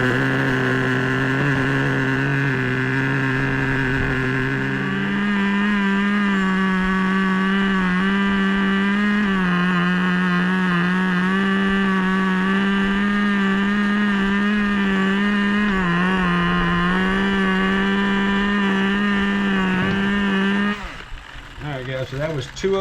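A Traxxas T-Maxx 2.5 nitro RC truck engine runs through a break-in heat cycle, a loud, steady high-pitched buzz that shifts pitch slightly and then drops off near the end.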